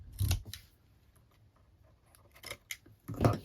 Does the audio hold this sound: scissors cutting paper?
yes